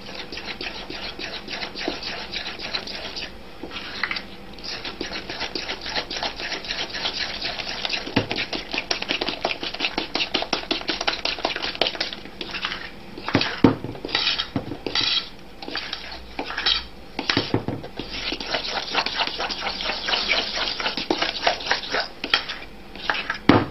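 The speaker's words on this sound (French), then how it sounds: "vous allez remuer de nouveau à l'aide de la fourchette en battant assez énergiquement" A fork beats cake batter energetically against a bowl, a fast steady clatter of taps and scrapes running throughout, close and alone with no voices.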